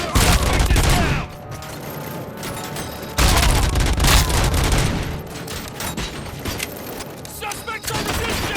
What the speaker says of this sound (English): We can't fall behind! Keep firing!